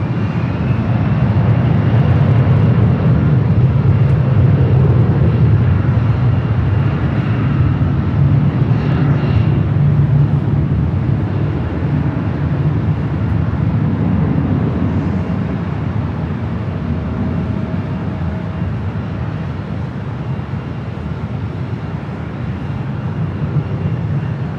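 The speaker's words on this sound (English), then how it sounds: "Delta Connection, SkyWest, CRJ 700, now lined up, 24 left. 24 left on its way." A SkyWest CRJ 700 regional jet in Delta Connection livery takes off from runway 24 left at LAX, a loud, sustained engine roar that holds steady and slowly eases over the whole stretch.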